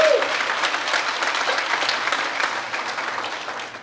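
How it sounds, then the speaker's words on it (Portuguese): A crowd at a talk gives steady, dense applause lasting a few seconds, fairly loud and uniform before easing slightly at the end. "se for para ele, pode aplaudir"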